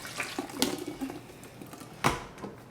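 A batch of shampoo is poured carefully into the top of a small filling machine, giving a faint, steady liquid trickle with a couple of sharp clunks, with no voices.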